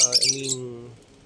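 Domesticated lovebirds give a quick, dense burst of high chirps and tweets up close, overlapped by a short, voiced, harmonic call that fades out within about a second.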